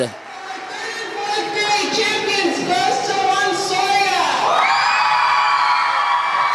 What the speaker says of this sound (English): Tremendous roar from the crowd as the Aztecs come to receive their trophy